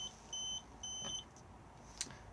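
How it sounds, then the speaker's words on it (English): Beeps from the 12-volt control panel of an Auto-Trail Tribute T715 motorhome with the engine off: two short steady tones, then a brief click-like blip, over faint background hum. "if I press this at the moment, it will beep at us because the engine isn't running"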